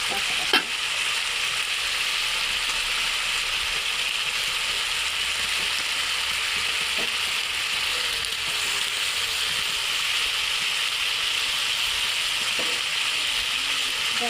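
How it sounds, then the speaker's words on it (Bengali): Tomatoes cut into thick pieces sizzle in a pan of frying fish curry, a steady loud hiss with scattered clicks of a utensil, running continuously with no talk. "এই টমেটোটা আমরা এখন দিয়ে দেবো"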